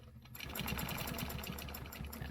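A sewing machine stitches through a quilt being stenciled, starting after a brief quiet moment and then running steadily with a rapid, even needle rhythm, close and moderately loud, with no talking.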